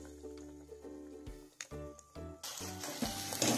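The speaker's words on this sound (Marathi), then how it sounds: "हे सर्व मसाले तेल सुटतपर्यंत मिक्स करून घेऊ" Masala for palak paneer, with a spoonful of yogurt and salt, stirs and sizzles in oil in a pan, soft scraping strokes giving way to a brighter, steady hiss of frying.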